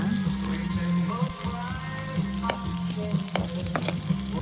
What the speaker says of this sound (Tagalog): So, buo lang yung siling na buyo, tapos igisa-gisa.